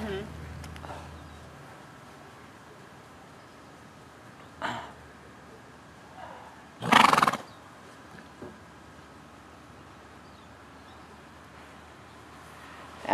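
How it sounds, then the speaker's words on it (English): A mare whinnies loudly to herd mates across a street, one sharp, brief neigh standing out over a quiet background with a few soft thuds and rustles. "Actually, the way Semi just neighed to her herd mates across the street"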